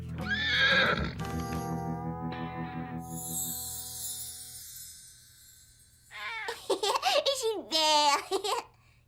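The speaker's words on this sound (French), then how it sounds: "Salut le cheval." A cartoon horse gives a loud whinny and snorting neighs over a soft background tone, with a shimmering musical flourish in the middle and a final burst of rapid neighing.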